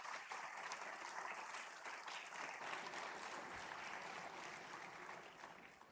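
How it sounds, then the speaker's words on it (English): Steady, dense applause from a large audience at an ISRO event welcoming the Gaganyatris, sustained and fairly distant, easing slightly toward the end. "I request everyone to give a big round of applause and welcome our Gaganyatris."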